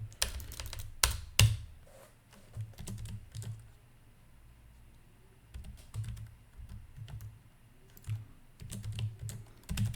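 Someone typing a password on a computer keyboard, with close bursts of quick key clicks, short pauses between them and a louder clack or two, at a fairly quiet level.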